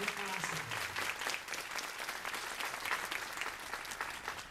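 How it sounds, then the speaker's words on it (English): Warm, sustained applause from an audience at an evening tribute event, fairly distant and even, continuing for several seconds with a faint voice trailing off at the start. "I'm going to ask all of you to give them all a round of applause"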